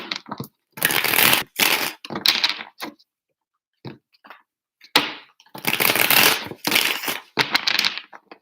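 Several bursts of tarot cards being shuffled, crisp riffling rushes separated by short pauses and a few light taps, close by.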